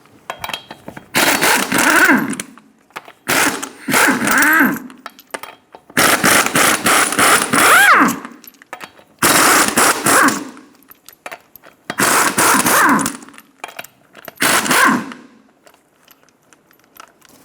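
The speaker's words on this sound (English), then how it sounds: "Using a 21mm socket, remove the 6 lug nuts." An impact wrench or ratchet on a 21mm socket takes six lug nuts off a 2000-2006 Toyota Tundra, loud close bursts in about six separate runs with short silent gaps between them.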